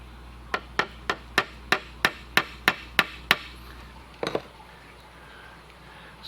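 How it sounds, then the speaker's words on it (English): Careful hammering on a bent brass rod: ten sharp, evenly paced metallic strikes close by, followed after a pause by a couple of quicker, lighter taps, with no talk. "So we're going to do some careful hammering here."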